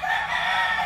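A rooster crows loudly and close by in one sustained, strained call that fills the whole moment, with no voices over it.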